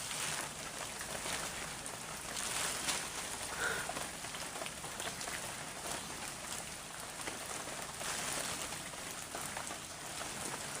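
Light rain that is easing off falls in a soft, even patter with scattered droplet ticks, steady and fairly faint, with no one talking.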